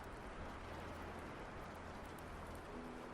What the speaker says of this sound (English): Rain on windows